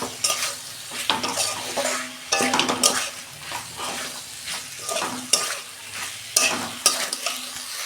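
Flat beans and potatoes tossed into hot frying spices, crackling sizzle punctuated by rhythmic metal spatula scrapes and clanks against the pan, fairly close with no talking.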